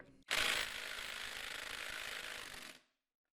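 A tool working the rear wheel nut on a Ducati Monster S2R 1000 motorcycle gives one steady, rattling whir of about two and a half seconds at close range, starting sharply and stopping abruptly, with no voices.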